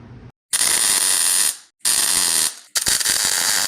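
MIG welding with a Millermatic 252 on a classic car front bumper, filling carriage bolt holes backed by copper: three loud, close bursts of steady crackling buzz separated by short pauses.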